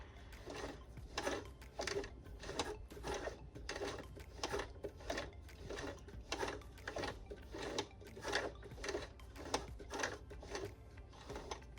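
A hand-cranked sewing machine stitches slowly over a zipper tab on a beginner tote bag, giving a steady series of about twenty rhythmic mechanical thumps and clicks at close range, with no talking.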